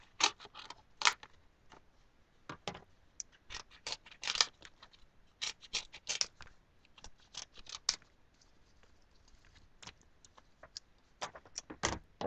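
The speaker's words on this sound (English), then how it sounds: "just want to kind of cut this piece out." Scissors snip through cardboard box material, short crisp cuts in irregular bursts, close and fairly quiet, with no talking.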